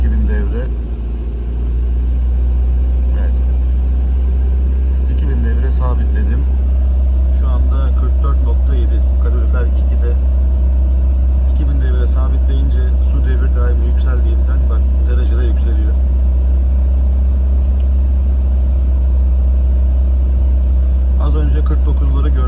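An Opel Tigra engine is held steady at around 1500-2000 rpm, a constant low rumble heard from inside the car while someone talks over it throughout.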